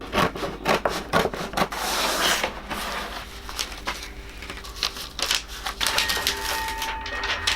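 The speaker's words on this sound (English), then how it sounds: "so I just used a piece of wood to flatten it" A block of wood rubbed hard over peel-and-stick wood veneer on a desk to flatten it, producing close, loud, rapid scraping and rasping strokes in uneven bursts, with no talk.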